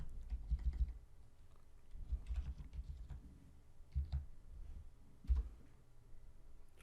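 Soft, close keystrokes tap on a computer keyboard while a terminal command is entered on a Debian system, arriving in quick irregular clusters with brief gaps.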